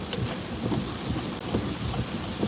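Heavy rain pours down in a dense, continuous hiss with low thunder rumbling underneath, steady and close.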